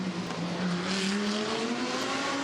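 GT race car in the Fanatec GT World Challenge Australia powering along Bartels Road at the Adelaide street circuit, engine droning steadily and rising in pitch under acceleration, loud and continuous without any talk.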